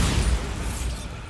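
A Bombarda spell explosion from the Hogwarts Legacy video game, a loud, close, rumbling blast with dense low boom that fills the moment and fades out quickly.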